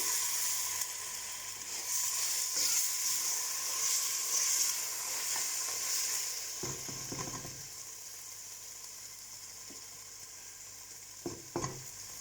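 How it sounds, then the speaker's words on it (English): Chopped tomato stirred into sizzling masala in a pan makes a steady frying hiss close by, with occasional scraping and knocking of the spoon near the end. "So I'm using this and I'll just mix that in"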